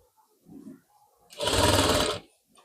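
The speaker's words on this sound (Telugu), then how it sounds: "ఇట్లా నీట్గా కార్నర్కి ఒక కుట్టు పెట్టుకోవాలి" A sewing machine stitches the corner of a blouse in one short, close run of rapid mechanical stitching, about a second long, set between quiet moments with light handling noise.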